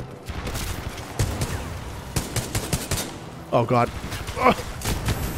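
Gunfire in the video game Titanfall 2: rapid bursts of automatic fire and sharp shots recur through the scene, with a voice exclaiming and talking over the shooting.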